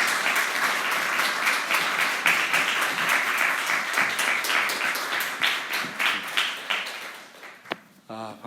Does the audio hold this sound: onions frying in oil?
no